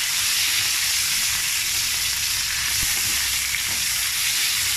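Meat browning in a frying pan gives a steady, close, even sizzle that holds for the whole stretch with no voices.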